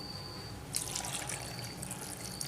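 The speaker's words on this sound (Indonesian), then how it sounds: "Kemudian susu cairnya juga ibu masukkan ya," Liquid milk pours into a blender in a steady, soft trickle, with a brief burst of brighter splashing partway through and no voices.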